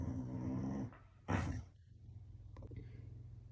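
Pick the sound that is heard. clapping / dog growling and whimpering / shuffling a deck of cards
dog growling and whimpering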